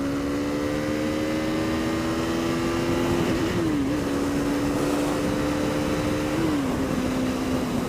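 A KTM 390 Duke single-cylinder motorcycle engine pulls hard through an overtake, its steady rising drone broken by two quick gear shifts, loud and close from the rider's position with wind noise behind it.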